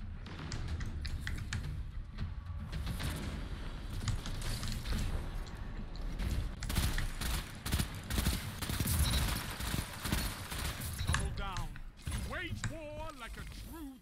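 Rapid pulse rifle bursts in Destiny 2 Crucible multiplayer, with dense repeated shots sustained throughout alongside game effects, and a voice talking over parts of it.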